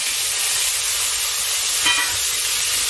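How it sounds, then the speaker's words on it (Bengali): Boiled raw banana and potato fry in a pan for a Bengali shing fish curry, giving a steady bright sizzle with occasional stirring scrapes; a brief distant honk cuts in near the end. "এটাকে এবারে আমি ভালো করে ভাজা করে নিচ্ছি"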